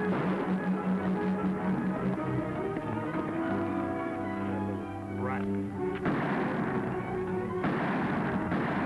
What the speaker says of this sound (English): Who's shooting at that little kid?